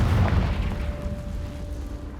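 A Confringo blasting spell goes off in Hogwarts Legacy as one deep boom that quickly fades into a low rumble with a faint steady hum beneath.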